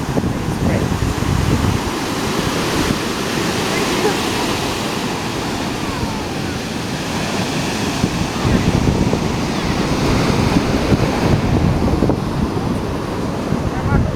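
Gusty wind roars against the microphone over the wash of surf at Redondo Beach, loud and constant, with a voice faintly heard at moments.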